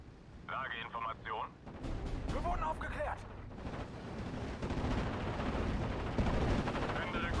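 Gunfire and artillery blasts from the Steel Division: Normandy 44 WWII strategy game, with a 3v3 battle at Colleville, as dense ongoing rumble and bursts. Distant speech-like radio chatter at the start is soon swamped by continuous combat noise.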